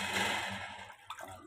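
Water runs and splashes while laundry softened with Downy is rinsed by hand, a broad watery rush that starts strong and then tapers off with a few small drips.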